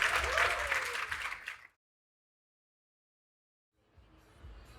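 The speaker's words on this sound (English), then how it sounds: "Let's have a round of applause." An audience bursts into applause at a live Q&A event, with loud, dense clapping for under two seconds that stops abruptly, followed by silence and then faint clapping and crowd noise returning at the end.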